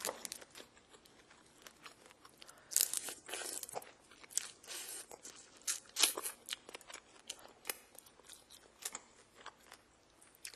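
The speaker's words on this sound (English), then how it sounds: "I actually want to try to like peel off the shell." Shell being peeled off a salt-roasted shrimp, close crackling and crunchy tearing in irregular bursts, dense and crisp with brief pauses, no voices.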